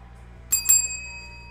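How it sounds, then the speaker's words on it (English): Two quick, bright bell dings ring out close by, the second following right after the first, then fade over a faint low hum. "debut the new bell."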